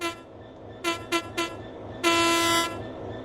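In a train simulator video game, a locomotive moving wagons sounds its horn with three short toots and then one longer blast over a low rumbling engine drone.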